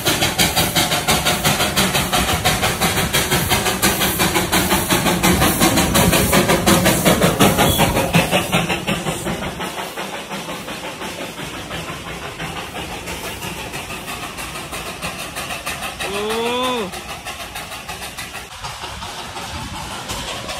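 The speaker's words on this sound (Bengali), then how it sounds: "এখন আসছে বাষ্পচালিত টয় ট্রেন।" A steam-powered toy train pulls in at Darjeeling. A loud, steady chugging engine with hissing steam runs for several seconds, then eases to a quieter idle, and a short rising whistle-like tone sounds near the end.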